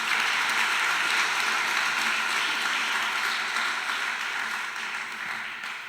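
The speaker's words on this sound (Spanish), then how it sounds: "Dese un aplauso a usted mismo" A church congregation applauds, a thick, sustained wash of many hands clapping together that holds steady and then gradually fades.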